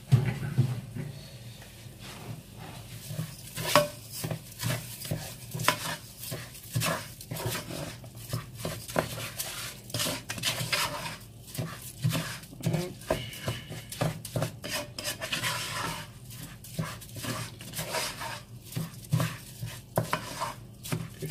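Rice being stirred into tomato sauce in a pot, with a steady run of scraping and clinking strokes from a spoon against the pan bottom, fairly close and continuous throughout, with no one talking.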